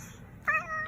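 A pet cat lets out a single short meow, close but fairly soft, after a moment of quiet.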